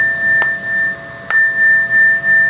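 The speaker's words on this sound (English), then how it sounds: "tap the bell into a microphone" A hand-cast bell is tapped twice with a sharp click, ringing out a pure, sustained metallic tone with a high shimmering overtone that hangs on loudly between the strikes.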